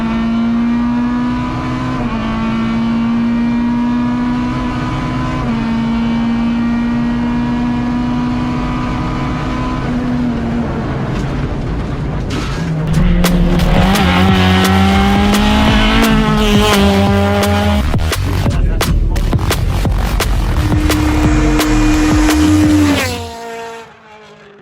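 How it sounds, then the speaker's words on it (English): A Peugeot 106 rally car races flat out at the Rally Van Staden, its engine a loud, close, high-revving howl that climbs through gear changes and drops on lifts, then cuts off sharply at the end. "Scott is back over this weekend for the Rally Van Staden in the Peugeot 106 Rally."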